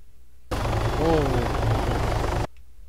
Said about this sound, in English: That's the helicopter.